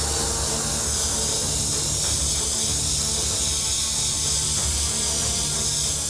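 An airbrush spraying white paint onto a skull design gives a continuous, loud, close hiss of rushing air that holds steady from start to finish.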